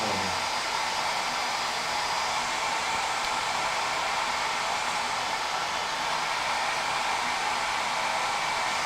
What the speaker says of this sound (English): Cue the hairdryer.